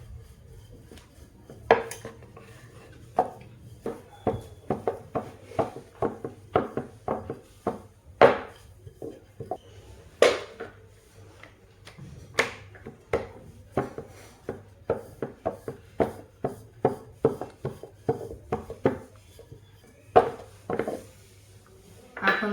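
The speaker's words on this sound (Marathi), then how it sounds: "हे छान असं आपण लाटून घ्यायचं" Aloo paratha dough being rolled out, with a rapid run of sharp wooden knocks and taps from the rolling pin on a board, close and fairly quiet, with no talking.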